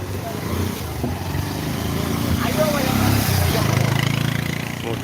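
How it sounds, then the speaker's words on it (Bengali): Motorbike engines droning and revving steadily in a wedding procession heading to fetch the bride, a continuous close-to-mid engine rumble rising slightly, with people talking over it. "মোটর বাইক নিয়ে যাচ্ছেন অনেকেই"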